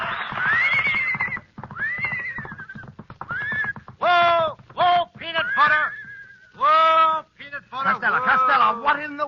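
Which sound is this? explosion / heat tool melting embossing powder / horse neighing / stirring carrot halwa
horse neighing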